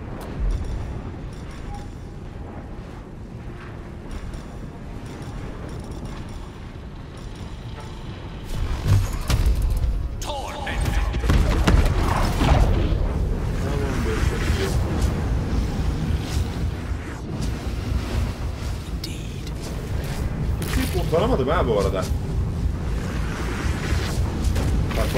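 An explosion in the video game Baldur's Gate 3 bursts in as a loud, rumbling boom after a quieter stretch, with a churning roar that carries on under a brief spoken remark.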